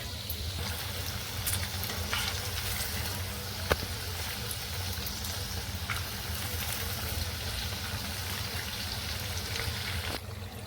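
Sabudana vadas sizzle steadily in hot oil as they are flipped, a continuous close crackle and fizz with a few faint soft clinks, no talking.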